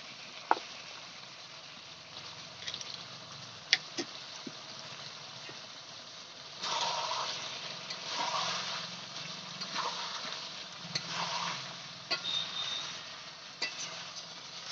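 Chicken and onions sizzle and fry in a pan in a village kitchen, a steady hiss that swells as the food is stirred, with occasional clinks of a utensil against the pan.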